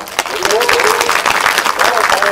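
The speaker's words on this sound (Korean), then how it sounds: "다시 한번 뜨거운 박수 부탁드립니다." Audience applause at an anti-nuclear prayer gathering, a steady wash of clapping that fills the whole stretch, with a voice speaking over it at moderate loudness.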